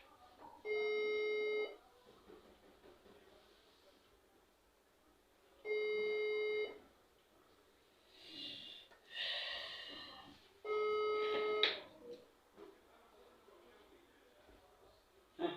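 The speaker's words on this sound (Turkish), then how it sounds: "Çalıyor diyor." A phone gives a ringback tone while a call to someone's mother connects: three long, evenly spaced electronic tones, with breathing and soft vocal sounds in between.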